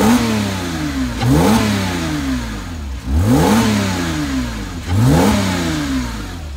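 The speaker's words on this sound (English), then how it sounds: "Give it a few revs." A 2007 Porsche Boxster flat-six engine is revved three times from idle, each blip swelling loudly then dropping back, with rasping exhaust tones and rattle between the sharp, evenly spaced rises.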